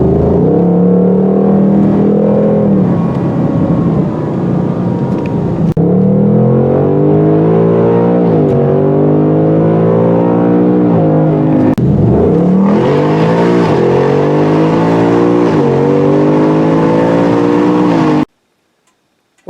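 A 2021 Ford Mustang Mach 1 corners and accelerates on a road at night, its engine note climbing and falling through loud, repeated surges, then cutting off abruptly; no talking.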